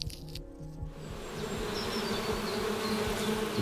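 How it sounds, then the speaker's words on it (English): Bees in a video game drone and buzz around a hive after pebbles are thrown at it, a dense swarm hum that swells and holds steady, with a few faint clicks beneath. "The bees seemed bothered by my"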